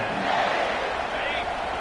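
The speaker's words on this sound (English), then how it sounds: "This crowd, full throat, splitting the eardrums and letting them know it's going to be a long day." A college football stadium crowd roars at full throat in a steady, loud wall of cheering, with a commentator talking over it.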